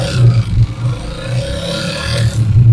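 Idling 125cc motorcycle engine, a 2024 model, with an abnormal mechanical noise: a steady, close-up rumble carrying irregular clattering and scraping throughout.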